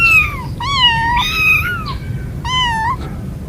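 A young kitten separated from its mother cries in a series of loud, drawn-out, plaintive meows, close by, with short pauses between calls over a low background rumble.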